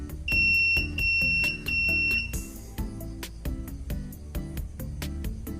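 A NodeMCU-based IoT flood early-warning device sounds its alarm buzzer as a steady, piercing high tone for about two seconds, then cuts off, over a rhythmic, music-like backdrop.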